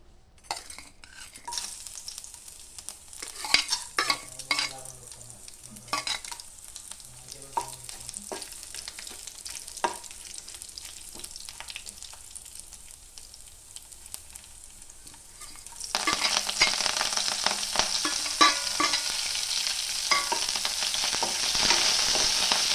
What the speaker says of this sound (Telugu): ప్యాన్లో కొంచెం ఆయిల్ వేసి వీటన్నిటిని లైట్గా ఫ్రై చేసుకోవాలి